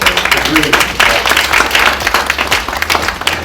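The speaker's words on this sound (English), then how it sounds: "we all deserve a very big round of applause for doing that" A room of people breaks into a round of applause, dense steady clapping from the crowd lasting the whole moment at a launch event.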